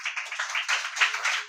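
A church congregation clapping for Stephen, a quick burst of close, fairly loud, uneven handclaps in a dense rhythmic patter with no pause.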